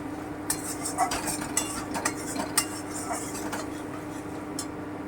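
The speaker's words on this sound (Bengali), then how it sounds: "আমি লবণটাও দিয়ে দিলাম একটু নেড়ে নিচ্ছি" Salt being stirred into egg korma masala in a pan, with repeated scraping and clinking of a spoon against metal over a soft, low sizzle.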